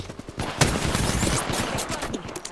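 Rapid automatic gunfire rattles in bursts throughout a firefight in the battle royale shooter Apex Legends, loud and close with overlapping shots and echoing cracks.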